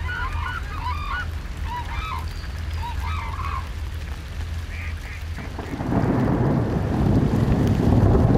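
A flock of hooded cranes gives scattered honking calls at a distance over a steady low rumble, and a louder broadband rush of noise takes over in the final seconds.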